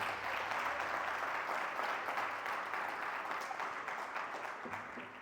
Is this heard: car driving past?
no